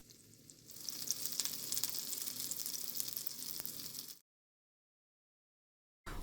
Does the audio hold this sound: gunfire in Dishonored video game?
no